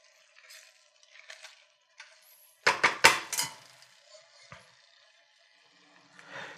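Pumpkin sage risotto is stirred in a pot, a brief burst of a spoon clinking and scraping against the pot's sides, close but soft, with scattered faint taps before and after.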